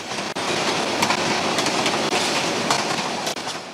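A train runs past along a railway line in Bangladesh, making a loud, close, continuous roar with regular clickety-clack wheel beats throughout.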